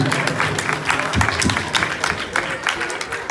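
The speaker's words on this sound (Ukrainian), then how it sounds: "слів нема одні оплески лишаються" A concert hall crowd claps after a performance of the Ukrainian anthem, with lively uneven applause throughout and voices beneath it.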